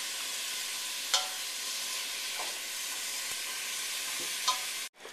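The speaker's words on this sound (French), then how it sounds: "Et mélanger beaucoup pour assurer que ce n'est pas trop ensemble." Beef browning in a pan, a steady, fairly faint hiss of frying with occasional light stirring scrapes and clicks, heard alone before it cuts off abruptly near the end.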